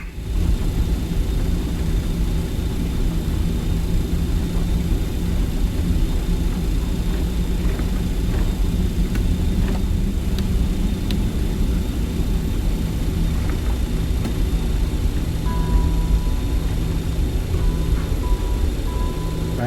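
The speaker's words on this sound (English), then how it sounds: "APU is running." The auxiliary power unit of a BAe 146-300 airliner runs in a flight simulator game, a steady loud roar and rumble holding constant throughout with faint clicks and a thin tone near the end.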